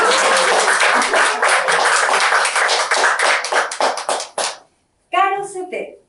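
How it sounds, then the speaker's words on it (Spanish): Audience applause for a woman writer at a literary talk in a forest setting, dense and loud for about four seconds, then fading out, followed by a short burst of voices after a brief gap. "Un aplauso para Ana María."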